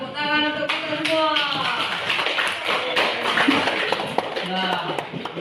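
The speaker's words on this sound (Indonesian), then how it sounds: "Dan tepuk tangan untuk kita semua." Scattered hand clapping from a group in a classroom setting during a school session on positive culture, with people talking over the claps.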